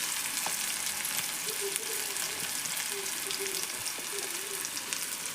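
Curry leaves fry in hot oil with a continuous close sizzle, a dense crackling hiss with small pops scattered through it and no talking.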